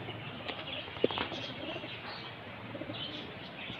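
Soft cooing of high flyer pigeons with scattered chirps against a steady outdoor background hum, with a brief flutter of wings near the start.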